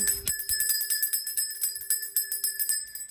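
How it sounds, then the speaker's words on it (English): Small bell rung by hand: a quick series of bright, evenly repeated ringing strikes, close and clear, with sustained metallic tones and no speech over them. "let me ring my bell"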